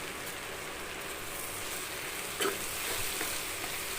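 Onions with salt and chili powder sauté in a pan for a gravy, a continuous close crackling sizzle like light rain, with one brief spoon scrape as they are stirred.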